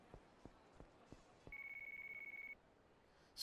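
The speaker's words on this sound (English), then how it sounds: "It's a fucking phone." A telephone rings in the video game Yakuza 3 Remastered, a single clear electronic trill lasting about a second after several soft thumps, with a short burst of noise at the end.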